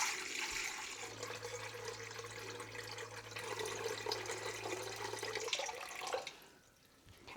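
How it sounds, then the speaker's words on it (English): Warm tap water runs into a container while 950 grams are measured for pizza dough, a steady pouring rush that cuts off near the end, leaving quiet room tone. "So we're gonna measure out 950 grams of water"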